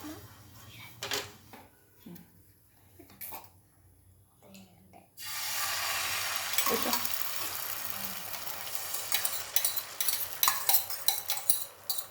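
Coconut oil brushed across a heating pan gives a steady sizzling hiss that starts abruptly and continues to the end, with light scraping and utensil clicks close by. Quieter handling noises come before it.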